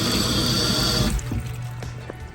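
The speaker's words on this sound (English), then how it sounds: "We definitely want to wash them off under cold water and let them rinse them dry a bit." Cold tap water pours steadily onto long hot peppers being rinsed, a dense close hiss that suddenly thins to softer trickling and scattered drips.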